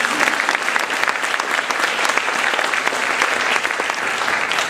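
A school spring concert audience applauding, dense sustained clapping filling a hall, loud and even throughout without a break.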